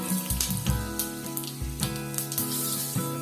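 Cumin seeds sizzle and crackle in melted butter in a hot pan, a steady close hiss with a few brief louder pops, no voices.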